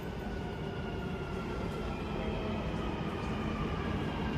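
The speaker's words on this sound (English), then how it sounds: "Train is coming to platform 2 going to Creek." Dubai Metro red line train pulling into an underground platform bound for Creek, a steady loud rumble and roar of wheels and motors filling the station without a break.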